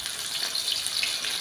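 Fish sizzling as it fries in hot cooking oil, a steady bright hiss of bubbling grease that holds evenly throughout, close and moderately loud with no talking.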